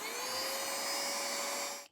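A small handheld vacuum runs steadily close by as it sucks dust off a sewing machine near the needle screw, a high whining motor tone that holds for about two seconds before cutting off.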